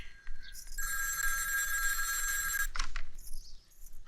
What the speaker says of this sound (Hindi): देख शायद भैया जी का फोन है।